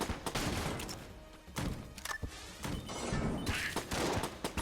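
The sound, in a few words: grenade explosion in video game Enter the Gungeon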